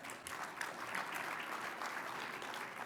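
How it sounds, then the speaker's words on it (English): An audience claps for elected officials at a transportation summit's closing session, a continuous, even round of applause that is fairly faint and distant and carries no talk. "Please let's give them a round of applause."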